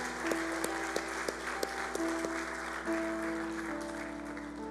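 Church congregation clapping together in steady, sharp rhythmic beats, with sustained organ or keyboard tones ringing underneath, moderately loud throughout.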